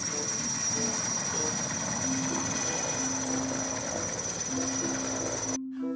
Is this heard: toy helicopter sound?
yes